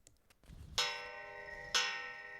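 Two clear metallic bell strikes about a second apart, signalling the start of primary school certificate exams, each ringing out bright and sustained before slowly decaying.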